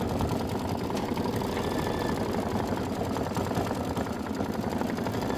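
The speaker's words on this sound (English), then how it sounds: "Then we're going to stitch the flower 3 fill" An embroidery machine stitches a flower fill design for a Kimberbell Wallflower quilt block, a steady, fast mechanical whir with rapid needle ticking running continuously and close throughout.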